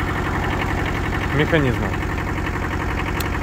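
Kubota KJ11 Japanese mini tractor with its small engine idling in a steady, low-pitched rumble close by, running continuously beneath someone talking over it.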